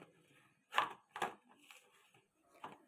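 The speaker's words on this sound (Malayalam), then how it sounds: "ഒരു കപ്പ് കടലമാവ് എടുത്തിട്ടുണ്ട്. അതൊന്ന് സീവ് ചെയ്തെടുക്കാം." A cup of gram flour (besan) is sieved for Mysore pak, heard as a few soft, separate taps and rustles against a quiet kitchen background.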